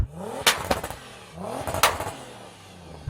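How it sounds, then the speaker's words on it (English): A Nissan Patrol engine with an aftermarket exhaust revs twice in rising bursts, with a raspy, crackling exhaust note, close and loud. "I don't think that exhaust is stock."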